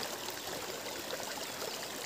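A flowing water stream gives a steady, even rushing and gurgling wash, continuous and moderately close, with no other sounds.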